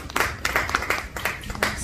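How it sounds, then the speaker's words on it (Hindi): Hands clap together in a loud burst of audience applause at a committee gathering, the irregular claps spreading through the room for the whole stretch with no voices over it. "तो उनके लिए भी एक बार जोरदार तालियां होनी चाहिए"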